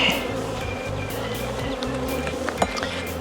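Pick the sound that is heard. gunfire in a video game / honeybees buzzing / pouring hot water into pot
honeybees buzzing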